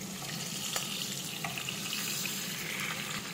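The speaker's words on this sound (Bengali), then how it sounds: "এবার মাছগুলো একটা পাশ ভাজা হয়ে গেলে উল্টে দিচ্ছি।" Hilsa fish pieces fry in hot oil in a wok as they are turned over, giving a continuous, fairly quiet sizzling hiss with a few faint clicks, and no voices.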